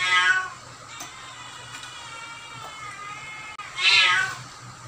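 Hungry pet cats meow loudly in a home kitchen, two clear drawn-out cries at the start and near the end with quieter mewing between, close to the microphone.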